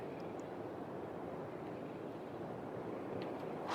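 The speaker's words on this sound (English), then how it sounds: "Ooh, it's windy." Steady wind blowing through the landscape of the video game Lost Ember, a soft, broad, continuous rush with slight swells near the end, and no other sounds.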